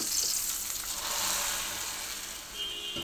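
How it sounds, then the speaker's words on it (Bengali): Onions fry in hot oil in a home kitchen, a steady close-up crackling sizzle that runs through the whole stretch without talk. "পেঁয়াজ ভেজে নিচ্ছি"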